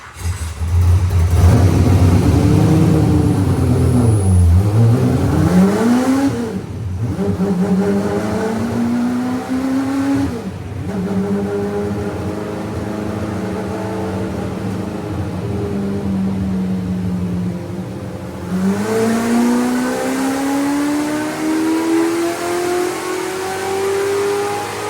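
An inexpensive GV NASCAR-style race car with added power revving hard while drifting, loud engine rising and falling through repeated sweeping gear pulls and throttle lifts, close and sustained with no talk.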